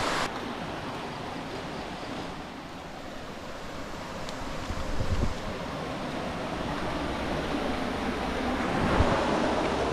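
River water flows at sunrise near a riverside car campsite, a broad, steady rushing wash with a soft wind-like roar and occasional low rumbles, no voices.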